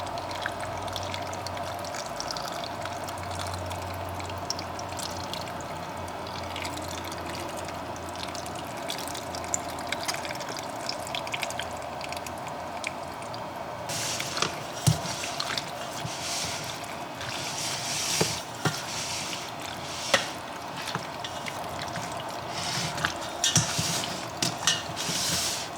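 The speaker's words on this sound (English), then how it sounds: "So now I'm about to pour my sauce all over these yummy noodles." Sauce is poured over cooked noodles in a home kitchen, giving a soft, steady liquid pour and wet trickle close by, with a few small clinks and squishes and no talk.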